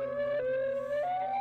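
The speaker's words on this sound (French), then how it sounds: "Cette sirène est utilisée pour te prévenir de l'arrivée d'un tsunami ou d'une tornade." Modulated French civil warning siren for tsunami or tornado, a loud, steady electronic wail that steps between pitches, dropping slightly then climbing higher, heard alone and close.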